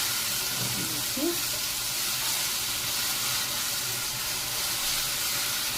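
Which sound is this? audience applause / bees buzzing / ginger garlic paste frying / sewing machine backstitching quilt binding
ginger garlic paste frying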